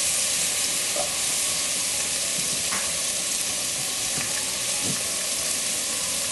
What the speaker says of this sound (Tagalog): pagsasamahin na natin itong tatlong ingredients na ito para igisa